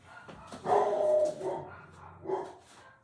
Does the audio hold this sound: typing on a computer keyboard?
no